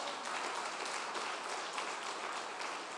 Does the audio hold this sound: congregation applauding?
yes